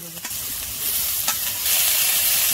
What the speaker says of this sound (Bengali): একটু হালকা করে নেড়ে নেবো।